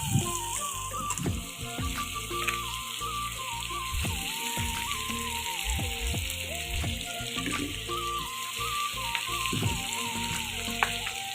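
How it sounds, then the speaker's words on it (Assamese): Meat dry-frying in a pan with potatoes and pumpkin about to go in, a steady dense sizzle running throughout with occasional stirring clatter, close and fairly loud. "এতিয়া এয়া মাংসখিনি অলপ ড্ৰাই ফ্ৰাই হ'বলৈ ধৰিছে"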